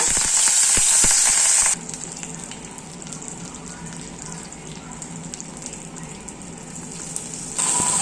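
Curry leaves dropped into hot oil with cumin and fennel seeds for a kids' lunch box recipe, giving a loud, steady sizzle and crackle that flares up sharply at the start and end.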